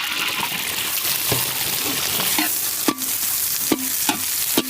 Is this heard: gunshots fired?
no